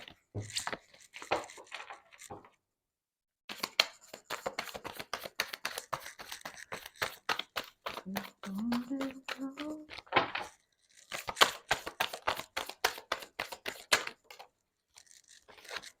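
Tarot cards being shuffled and drawn, with dense bursts of rapid riffling and papery flicks, broken by brief pauses; close and fairly quiet, no talk.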